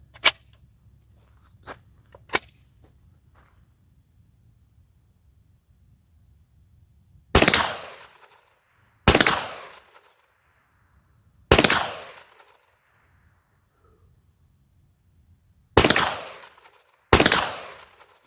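Shotguns and a pistol-caliber carbine are test fired, with a few light clicks and handling noises followed by five loud, booming single shots spaced a second or more apart, each ringing out and decaying.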